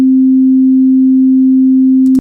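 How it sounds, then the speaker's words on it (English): A pure sine wave test tone holds one steady, loud, unwavering low-mid pitch for about two seconds, then cuts off abruptly with a brief click. "It's just a sine wave."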